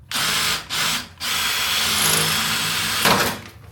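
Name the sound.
drilling out rivets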